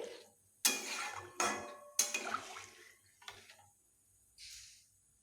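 A spoon scrapes and knocks against a pot while salt is stirred into fish curry broth for parshe fish, giving a few distinct clinks and scrapes in bursts, followed by a softer swish near the end.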